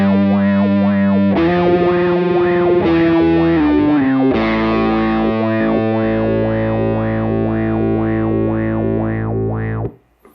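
Electric guitar with added gain plays through a Beetronics Zzombee Filtremulator pedal. Loud sustained notes carry a steady rhythmic filter and tremolo pulsing, with the pitch stepping down early on before settling into a long, throbbing held tone that cuts off at the end.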